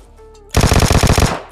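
Vector pistol gunfire in a shooter video game: a close, loud rapid burst of about a dozen shots after a brief quiet lead-in, with no talking.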